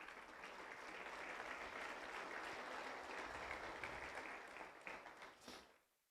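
A church congregation claps for Jesus during a Spanish-language service, a full sustained round of applause that holds steady, then tapers off and fades out at the end.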